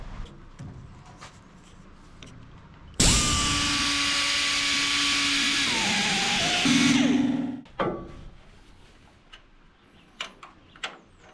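A power cutting tool, likely a grinder or cutoff wheel, trims the bottom edge of a sheet metal panel during custom fabrication on a Datsun 280Z. The cut runs loud and steady for about four seconds, then winds down, with shop clatter before and after.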